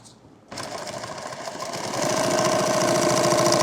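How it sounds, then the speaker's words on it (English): A sewing machine stitches a laptop bag, starting abruptly after a brief quiet moment and running steadily and loudly close by, with a rapid even rhythm that grows louder partway through. "sew back here"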